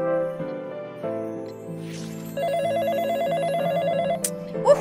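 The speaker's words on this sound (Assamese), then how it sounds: "আকৌ ফোন" A telephone rings indoors in an Assamese film scene, a steady electronic ringtone melody that plays clearly on its own for several seconds with no voices over it.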